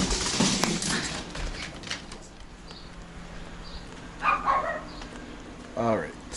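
Several dogs bark and yip in short bursts at middle distance, with a quick cluster of barks near the end, over outdoor background noise and a voice talking early on.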